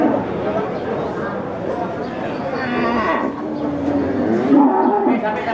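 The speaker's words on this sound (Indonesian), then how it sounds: "Sapi-sapi bakalannya bos Sotik ini." Cattle moo repeatedly amid a busy Indonesian cattle market din, with people chattering and calling in the background throughout.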